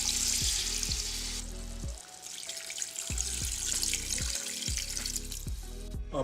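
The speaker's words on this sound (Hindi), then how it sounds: "پانی ڈال دیا ہے،" Water poured into a pot of simmering camel meat at a village kitchen near Madinah, a steady splashing rush that runs for several seconds alongside low, repeating tonal sounds.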